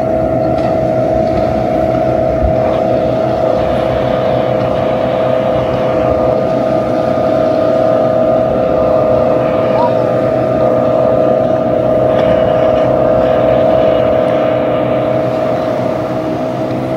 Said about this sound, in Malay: Ada bot keluar ke laut.